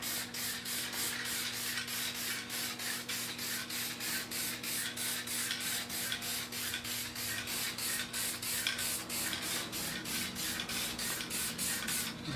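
A garden chair armrest is spray-painted indoors with a heater running: a loud, continuous hiss close by, pulsing in quick, regular bursts over a steady low hum.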